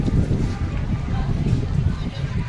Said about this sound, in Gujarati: પવન તો એટલો છે મિત્રો કે કદાચ મારો અવાજ પણ તમને નહીં સંભળાતો હોય